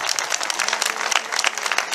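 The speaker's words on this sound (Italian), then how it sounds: "un applauso a Costanza Mediano" A seated audience at a book presentation during a national festival bursts into brisk, dense applause, with many hands clapping steadily at moderate volume and no talking over it.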